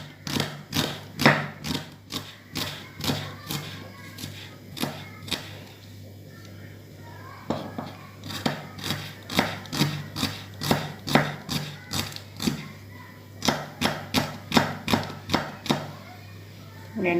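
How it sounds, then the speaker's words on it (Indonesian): A knife slicing shallots thinly on a cutting board in a home kitchen, with quick rhythmic chopping taps in bursts and short pauses between runs, close and crisp over a faint steady hum. "Kita potong tipis-tipis dulu ya bawangnya"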